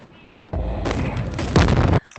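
Explosion in the video game Animal Company, a sudden loud close boom that rumbles and crackles for about a second and a half before cutting off abruptly.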